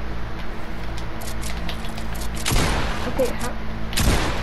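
Shotgun blasts ring out during Fortnite gameplay, with a couple of loud, sharp bursts standing out over steady game noise, and a player briefly speaks.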